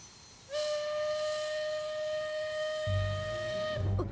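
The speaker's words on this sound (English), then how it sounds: "It was a train whistle, Paul." A steady train whistle blows for about three seconds, clear harmonic tones, then a low rumble of rolling machinery joins near the end.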